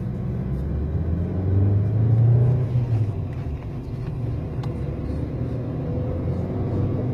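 Volkswagen Jetta 1.2 TSI running on LPG, heard from inside as it accelerates in traffic with the air conditioning on; a steady low engine rumble swells briefly, then holds at an even level, with no talking.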